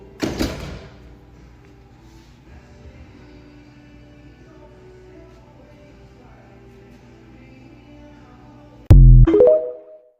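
A stiff door is shoved hard until it shuts. A loud bump at the start is followed by near silence, then a sharp, heavy slam and a brief rattle near the end.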